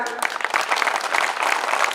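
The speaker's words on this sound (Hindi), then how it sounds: "एक बार आप सब लोग इन कवियों के सम्मान में ताली बजाएं" An audience claps together in honour of poets at a Hindi humour and satire poetry gathering, steady applause filling the whole two seconds at close range.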